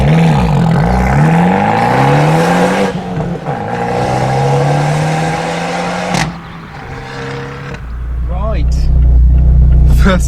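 An Abarth 124 Spider with a 1.4-litre engine starts off, its revs rising and falling through several gear changes, then settling into a loud, steady low engine drone close by.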